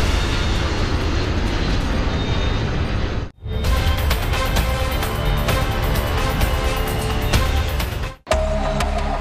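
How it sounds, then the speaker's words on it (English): A jet airliner flies over the Florida Everglades with a loud, sustained engine roar that cuts out abruptly twice, then carries on. "A jet is flying over the Florida Everglades"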